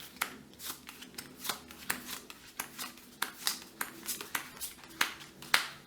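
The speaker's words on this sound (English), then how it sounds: "now I can shuffle these cards back into the arsenal. So shuffle them in here" Playing cards shuffled back into a deck in a tabletop dungeon card game, a run of crisp riffling flutters and soft slaps repeating in quick irregular bursts, close and clear with no voice over them.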